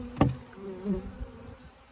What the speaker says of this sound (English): he packs in extra bees to help keep the cells warm